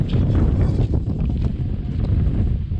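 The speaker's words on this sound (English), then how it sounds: "Probably can't hear me because it's windy." Steady, loud wind buffeting the microphone on a dry California lake bottom, a continuous low roar with gusty fluctuations and no voices.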